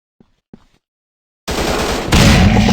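Suppressive gunfire in a commando shooting video game: two faint thumps, a moment of silence, then a loud sustained burst of automatic fire that grows even heavier partway through.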